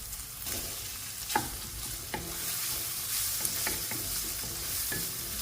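Leftover beef and boiled potatoes frying in a pan, a steady close sizzle broken by several sharp scrapes of a spatula against the pan, with no talking.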